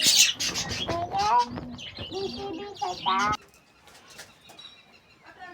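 Pigeons at a small mini zoo, with soft bird calls and possible wing flutters heard close by alongside a person talking over the first three seconds, then quieter scattered bird sounds afterward.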